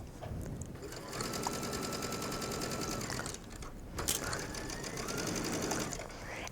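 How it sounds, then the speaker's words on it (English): A sewing machine stitching around the armhole of a mesh fabric sleeve with an elastic hem, whirring in a fast continuous mechanical rhythm up close, with a brief pause midway. "I will know that I'm capturing all of the mesh as I stitch around the arm's eye"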